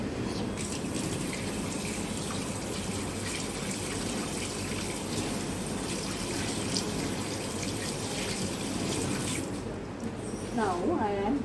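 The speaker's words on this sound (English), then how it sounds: "Wash hands under running water." Hands are washed under a running tap, a steady, close gush of water splashing continuously into a sink before stopping near the end, with a voice briefly heard afterward.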